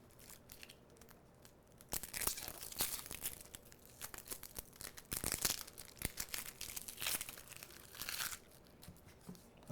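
Dry papery onion skin crackles and crinkles as outer layers are peeled back by hand after the top is cut off, soft, close and irregular with no talking.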